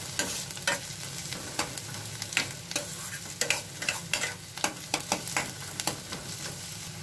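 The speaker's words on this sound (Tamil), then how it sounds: "இப்போ நம்மளோட வெங்காயம் நல்லா வதங்கிருச்சு" Onions frying in a pan for a Tamil avaraikkai kulambu give a soft, continuous sizzle, broken by a quick run of scraping stirs from a utensil. The sound is close and fairly quiet, with no talking.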